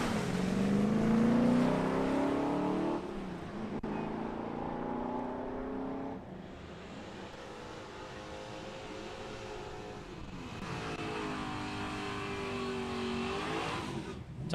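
Drag race car, Tony Chapman's Holden XU1 Torana, making its run at Palmyra Raceway: a loud engine roar with rising revs through the gears, then a sustained drone that fades and builds again.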